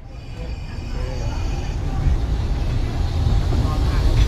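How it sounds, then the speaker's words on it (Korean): Train pulling into Mae Klong station in Thailand, where the line runs through a market, heard as a steady low rumble that builds over a few seconds, with crowd chatter and talk over it. "기차가 들어오고 있습니다."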